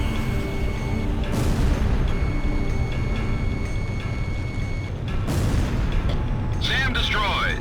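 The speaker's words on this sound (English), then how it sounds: "Drop more bombs." Bombs explode in Ace Combat Zero during a mission over a city: heavy booming blasts roll under a constant loud jet engine drone, with two big impacts standing out and a voice talking over the din.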